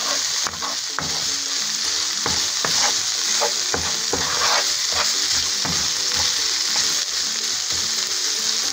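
Aderezo, a sauce base for garbanzos with spinach, frying in a pan, a steady close sizzle with repeated spoon scrapes and stirring clicks throughout.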